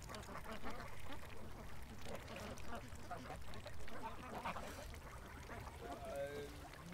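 Ducks quack repeatedly close by in an outdoor pen, a busy, overlapping chorus of calls, with a few brighter quacks toward the end.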